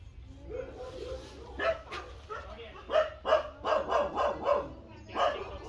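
Puppies bark in a quick series of sharp yips that grows louder and more rapid toward the end, with whimpers mixed in and talk nearby.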